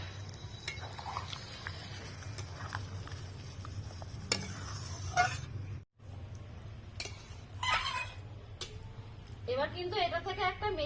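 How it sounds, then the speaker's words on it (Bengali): Methi chicken with fenugreek leaves and added water is stirred in a pan, with soft scraping, light clinks of a utensil against metal and a gentle sizzle, and a brief pause partway through. "এবার এর মধ্যে অল্প পরিমাণে জল দিয়ে ভালোভাবে নেড়ে চেড়ে নেব"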